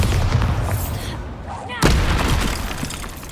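A Bombarda blasting spell goes off in Hogwarts Legacy as one sudden explosive boom partway through ongoing combat noise, with voices nearby.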